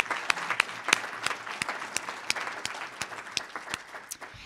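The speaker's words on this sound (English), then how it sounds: "let's just give Glenn a round of applause for his passion" Audience applause at an event, moderately sized and somewhat thin, with distinct individual claps standing out against the steady patter, easing off toward the end.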